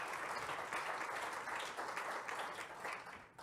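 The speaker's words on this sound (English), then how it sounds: "it always amazes me how people applaud to the video" Audience applause at a keynote, a steady dense wash of clapping filling the room for several seconds, fairly faint and tapering slightly toward the end.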